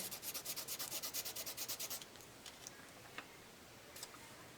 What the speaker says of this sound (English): you're just rubbing this on here, transferring it on there